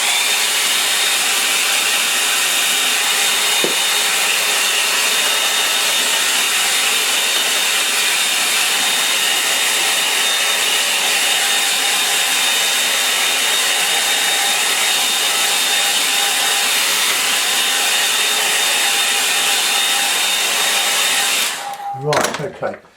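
A hair dryer blowing on a watercolour line-and-wash painting, a loud, steady rushing whine that runs unbroken for over twenty seconds close to the mic, then cuts off abruptly at the end.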